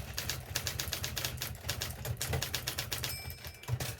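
An Imperial electric typewriter, a rebadged Adler with a power roll system, types in a rapid, steady run of sharp mechanical strikes over a low motor hum, with a small bell-like ring near the end.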